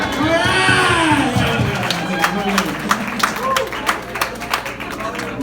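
A comedy open mic crowd breaks into scattered clapping and cheers, the applause rising under a host's loud voice and continuing in uneven bursts.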